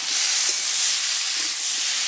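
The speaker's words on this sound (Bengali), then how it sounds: "এবারে নেড়ে চেড়ে সবজিটা কষে নেব" Winter vegetables, including new elephant foot yam and cauliflower, being stirred and fried in a pan, giving a steady close hiss and sizzle with faint scraping strokes throughout, no talking.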